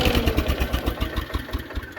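A 1979 Case 224 hydrostatic riding lawnmower engine runs steadily close by, chugging in a fast even rhythm with slight surges in loudness.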